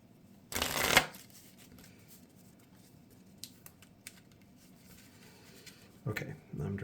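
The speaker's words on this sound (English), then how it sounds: "So just trying to shuffle it really well." A deck of playing cards for the Marvel Champions card game shuffled in quick riffling bursts, one near the start and another at the end, with faint card handling between, close and fairly quiet.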